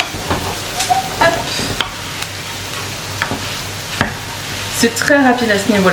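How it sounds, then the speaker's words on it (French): Scrambled eggs and grilled tofu frying in a pan give off a soft, steady sizzle, with occasional scraping stirs and clinks close by while someone speaks French over it. "On va plutôt faire comme des œufs brouillés qu'une réelle omelette."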